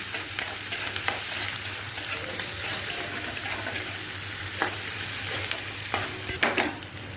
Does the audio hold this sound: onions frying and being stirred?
yes